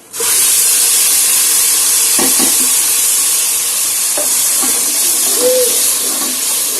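Tomatoes fry in a pan with browned onions, producing a loud, constant sizzling hiss with a few stirring scrapes and clinks, and no voices.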